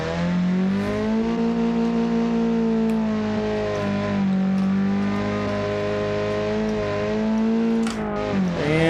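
Engine of a Baja off-road competition car driving, a strong harmonic drone that rises and falls as the throttle changes, loud and close throughout with no talk.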